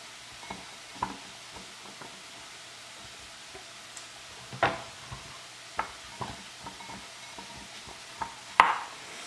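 Onions and garlic softening in a frying pan, a faint low sizzle running underneath scattered sharp clicks and scrapes from a utensil stirring against the pan, with a louder clatter near the end.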